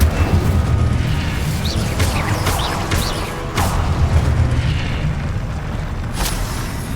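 Incendio fire spell bursting in Hogwarts Legacy, a continuous heavy roaring blast with low booming rumble and crackling bursts, loud and dense throughout.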